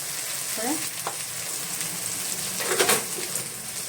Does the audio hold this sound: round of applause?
no